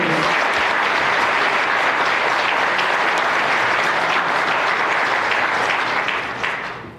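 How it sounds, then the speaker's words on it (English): A banquet audience applauds award nominees and winners at a senior athletics awards event: dense, loud clapping from a large crowd holds steady, then tapers off near the end. "give another round of applause to all of our award nominees and winners"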